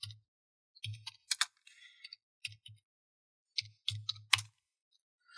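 Computer keyboard keys pressed in short bursts while entering shortcuts in Windows, crisp close clicks and taps clustered in a few quick groups separated by silent pauses.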